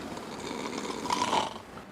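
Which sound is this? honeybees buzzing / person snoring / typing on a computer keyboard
person snoring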